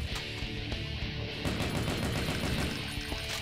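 Sniper rifle shots in the Brutal Doom game mod, rendered as a dense, loud run of sharp gunfire cracks over a busy, heavy game soundtrack. No voices.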